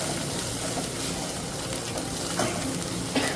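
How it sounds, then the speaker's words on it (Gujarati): Garlic and green chillies sizzle in hot oil in a pan, a continuous crackling fry with a few small pops and stirring scrapes, close and steady with no talk. "હવે લસણ મરચાંને આપણે સરસ એવું સાતડી લઈશું"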